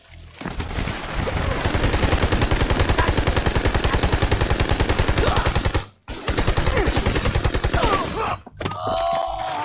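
Sustained automatic gunfire from the video game Army of Two: The Devil's Cartel on Xbox 360 rattles in dense rapid bursts, cutting out briefly twice before resuming, with a short bit of other game sound at the end.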